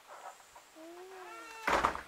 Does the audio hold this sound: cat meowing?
yes